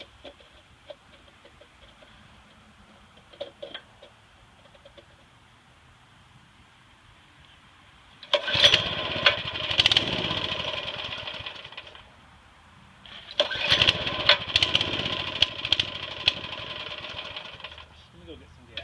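Small Baja minibike engine, just after a carburetor clean, firing up and running in two loud buzzing bursts with a quiet gap between, rough and uneven as if struggling with fuel delivery.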